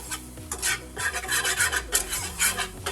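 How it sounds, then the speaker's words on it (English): A whisk or spoon scrapes a pan as flour is stirred into an Alfredo sauce, making a rhythmic rasping and rubbing sound that speeds up and slows in short, close strokes, with no talk. "after we add in the flour, we'll just mix it up, make sure that there are no lumps."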